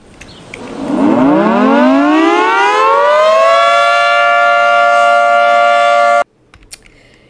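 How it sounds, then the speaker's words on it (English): A loud tornado siren in the video game Greenville winds up from a low pitch to a sustained steady wail, holds for several seconds, then cuts off abruptly. "That's the cool tornado siren you can do."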